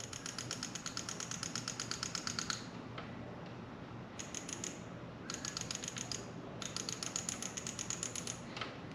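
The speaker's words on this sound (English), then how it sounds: "That's injector pulse." Rapid, steady ticking of a fuel injector pulsing on a 2011 Honda CBR250R with a likely gummed-up injector, a fast even clatter that stops and restarts in bursts over a low mechanical hum, with no talking.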